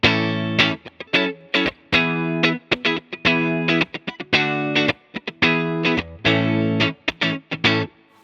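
Clean electric guitar played through an Origin Effects RevivalDRIVE pedal, bright chords and single notes in short, punchy phrases with brief gaps between them, close and loud with no talk.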